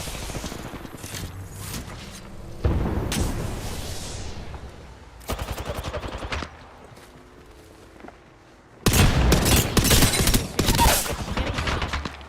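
Bursts of video game gunfire in an online shooter, loud rapid volleys of shots that start and stop, with heavy clusters near the start, middle and end and quieter gaps between.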